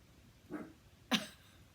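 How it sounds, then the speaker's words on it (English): A dog gives two short barks or yelps a moment apart, the second louder and sharper, close by in a quiet indoor room. "That's my dog."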